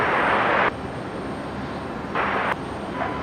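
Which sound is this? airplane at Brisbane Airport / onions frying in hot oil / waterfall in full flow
airplane at Brisbane Airport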